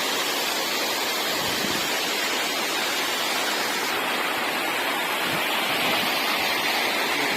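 Ladimaha waterfall roars as a constant, dense rush of falling water, loud and unbroken throughout with no voices.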